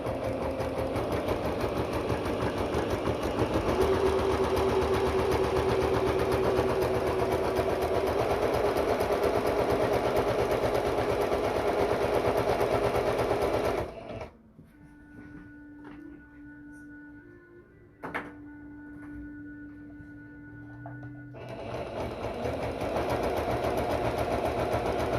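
Sewing machine stitching ribbon onto skirt fabric, a steady close mechanical whir running for about fourteen seconds, pausing briefly with faint tones, then starting again near the end.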